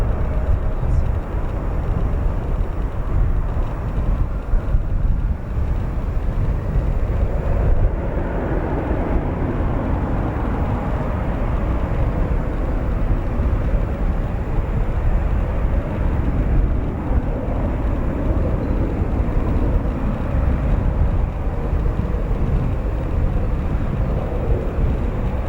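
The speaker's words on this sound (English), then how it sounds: "Right now we are following that United Airlines 787-10 from Brussels" A United Airlines Boeing 787-10 arriving from Brussels at Chicago O'Hare: a steady, broad jet rumble, loud and sustained, with wind-like noise over it for the whole stretch.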